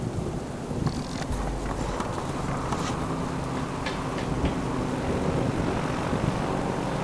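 A propeller plane drones overhead, a low continuous rumble lasting the whole stretch, with wind noise against the microphone.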